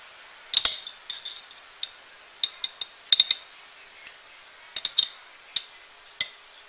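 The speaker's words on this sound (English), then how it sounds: "Just mix that garlic in there real good." A spoon stirs garlic into rehydrated potato flakes in a pot, giving a scatter of light, close metallic clinks and taps at irregular intervals against a quiet background.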